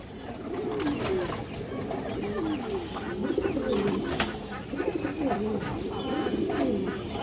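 Pigeons cooing steadily at a Bengali pigeon sale where a female pigeon and high-flyer birds are shown, the throaty coos repeating in rolling overlapping waves close by, loud and continuous with no talk.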